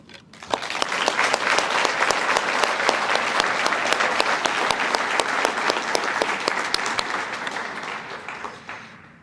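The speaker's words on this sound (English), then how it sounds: "Please give a round of applause for the family members and the friends of the ambassadors" Dinner audience applauding at a student ambassador awards evening, a dense, steady round of many hands clapping for several seconds before tapering off at the end.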